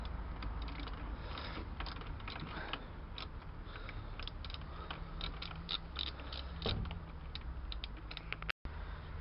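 An 8mm socket ratchet loosens bolts on an LML Star 4T 125 scooter, giving a steady run of close, quiet clicking and creaking ratchet strokes with metallic mechanism noise throughout, then a brief silent gap near the end.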